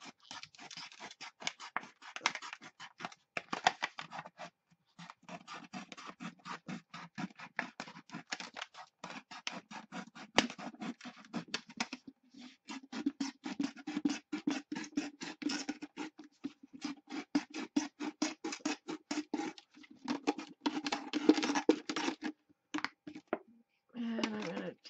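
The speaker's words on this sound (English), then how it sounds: "Scissors and cut the last part of that off." Scissors snip through a plastic bottle being cut apart to make a Christmas snowflake ornament, a steady run of close, crisp cutting and scraping strokes with brief pauses between them.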